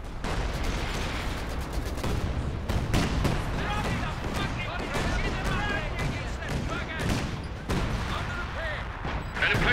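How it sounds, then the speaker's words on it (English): Gunfire and artillery pound an emplacement in Company of Heroes 2, with rattling bursts and heavy booms layered densely and continuously throughout a loud battle mix. "An emplacement is being attacked."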